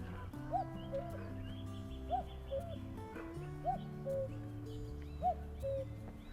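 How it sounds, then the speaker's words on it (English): Cuckoo calling at dusk on a Lake District fell, its short two-note calls repeating every second or so in the near distance over a low, steady background hum. "now I've got a cuckoo just here."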